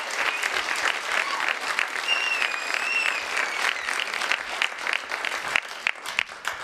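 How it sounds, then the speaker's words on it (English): A comedy club crowd claps to welcome a comedian to the stage, sustained lively applause with a few whoops and whistles rising above it. "Give him a nice round of applause."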